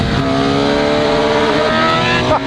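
A 2014 BMW R1200GS Adventure motorcycle engine drones loudly and steadily while racing a Kawasaki ZX14R, with rising revs, a gear shift near the end, and strong wind rush throughout.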